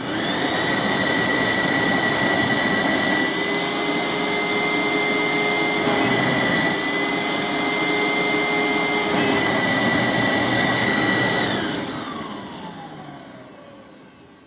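A Hoover SteamVac water extractor runs dry with an empty bowl during a suction test. Its loud, steady motor whine holds for about eleven seconds, then winds down as the unit shuts off.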